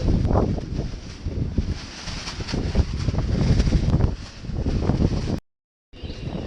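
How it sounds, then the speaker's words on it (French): Heavy wind buffets the microphone aboard a Bavaria 38 sailboat in a steady low roar with gusting surges, then briefly cuts out before resuming. "Alors je sais même pas si on m'entend bien à cause du vent."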